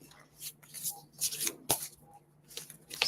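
Crisp, papery riffling bursts of cards being shuffled by hand, close up, in several quick repeated rounds with short pauses between.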